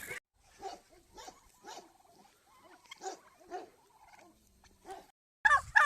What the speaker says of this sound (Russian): Индюки маленькие еще растем. Здесь около 250 штук.